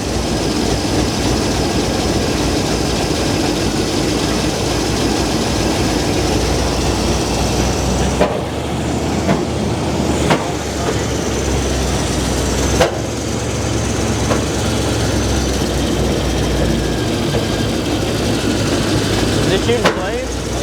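A big block V8 in a first-generation restoration idles and rumbles with no throttle response, a loud, steady, close engine drone running throughout, with people talking over it.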